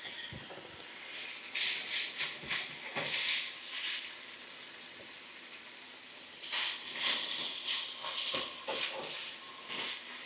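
Already-cooked shrimp reheat in a hot pan, giving off hissing sizzle that swells and fades in several close bursts with quieter stretches between them.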